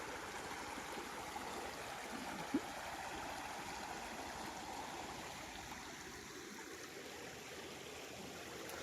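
A clear river flowing beside a farm lot gives off a soft, steady rush of water heard from a short distance, with no other prominent sounds.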